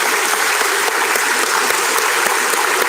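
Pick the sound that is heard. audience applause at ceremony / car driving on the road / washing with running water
audience applause at ceremony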